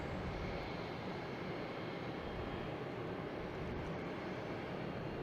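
A JetBlue airliner rumbles in the taxiway alley at Boston Logan, a steady, moderately distant engine hum and whine that runs evenly without talk.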